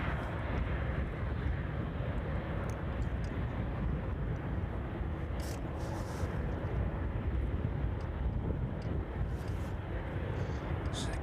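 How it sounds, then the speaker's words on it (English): Continuous broadband roar of jet aircraft arriving at East Midlands Airport on an evening, a steady rumble holding level throughout with no clear peak, like a plane on approach or rolling out nearby. "It's good to see so many aircraft arriving, especially on a Tuesday."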